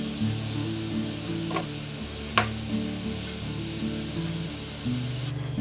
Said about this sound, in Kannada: ಇದೇ ಎಣ್ಣೆಯಲ್ಲಿ ನಂತರ ನಾವು ಹುರಿತಾ ಇದ್ದೇವೆ.